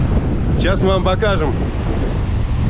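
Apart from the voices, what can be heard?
strong wind at Bavaro beach, Punta Cana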